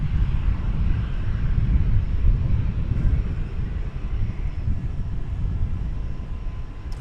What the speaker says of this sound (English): it just came right out of the hangar and it's taken off for LAX